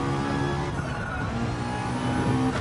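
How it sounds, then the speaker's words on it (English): A Gr.4 race car is revved hard in Gran Turismo 7, its engine holding a dense, loud, sustained roar with steady harmonic drone and no pauses. "So I deliberately revved the engine out there."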